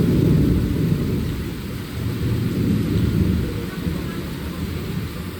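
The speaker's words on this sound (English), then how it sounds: "But it is raining" Heavy rain pours steadily in Tarlac, Philippines, while low rumbling thunder rolls underneath, loud and continuous throughout.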